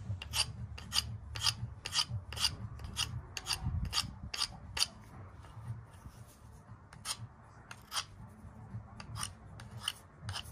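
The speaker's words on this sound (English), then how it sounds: "So I'm just going to try and sharpen it." A 440C steel bushcraft knife is drawn across a smooth stone from the sea in steady, rhythmic rasping strokes, close and fairly loud. A brief lull breaks the run partway through before the strokes resume.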